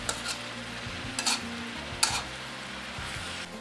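Papaya cooking in a pan, a steady soft sizzle with occasional scrapes and clinks of a utensil stirring against the metal.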